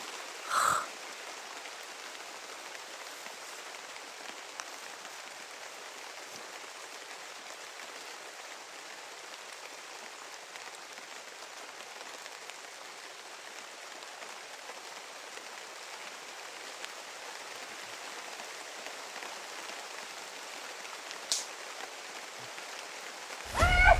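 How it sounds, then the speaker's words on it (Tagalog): Steady, even rain in a video game hisses throughout, a dense wash of falling drops with a couple of brief louder knocks near the start and end. "Lumakas na yung ulan, mga idol."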